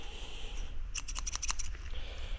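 Kid scissors snip through a 3mm thick gasket in a quick run of about seven crisp, close cuts over a faint background hiss.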